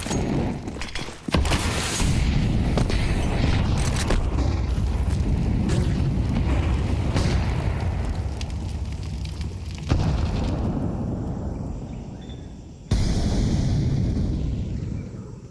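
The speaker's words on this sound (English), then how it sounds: "They keep missing nades, Bestia. That's another molly that's just gone into a smoke." Grenade blasts and Molotov fire bursts from a Counter-Strike esports match, with repeated booming explosions and roaring flames that stay loud and dense throughout, broken by sharp new bursts near the middle and late in the sequence.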